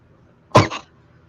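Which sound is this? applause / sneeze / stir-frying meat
sneeze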